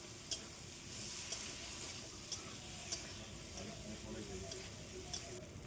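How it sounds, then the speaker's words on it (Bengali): Potatoes sautéing in spice masala for a fish curry, a quiet continuous sizzle punctuated by regular light taps and scrapes of a spatula against the pan, with a voice faintly in the background. "এখন আলুগুলোকে দিয়ে আবার পুনরায় ভালোভাবে কষিয়ে নেব।"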